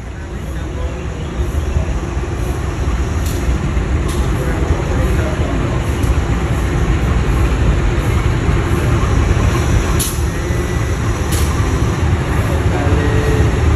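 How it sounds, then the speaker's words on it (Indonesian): A train at Lempuyangan station in Yogyakarta rumbles steadily and loudly in the foreground, a continuous low roar with faint metallic clicks and squeals above it throughout. "Delan iki lho keretane."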